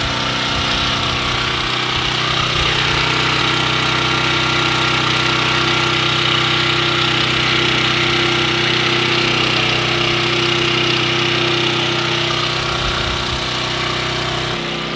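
A propane-fueled generator runs steadily at full power, its engine droning with an even, continuous hum and a rough mechanical knock, loud and close throughout, with no voices.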